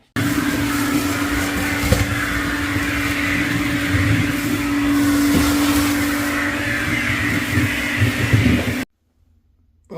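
Soaking wet wood being carved with a loud power tool, a steady motor whine with a constant hum running for about nine seconds before cutting off abruptly.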